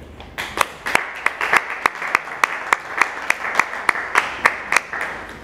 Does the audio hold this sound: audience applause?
yes